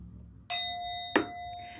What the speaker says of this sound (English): hit that bell